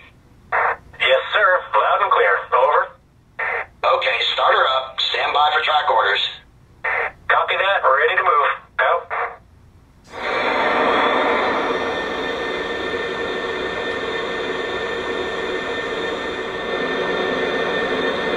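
Voices talk for a while, then a Lionel PRR S2 model steam turbine locomotive starts up with a steady rushing hiss that continues evenly.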